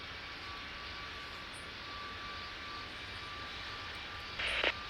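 An airliner rolls and takes off at Tokyo Haneda in the video game Tower Simulator 3, a steady, fairly faint jet engine roar with a thin tonal whine, holding level, with a short brighter burst near the end.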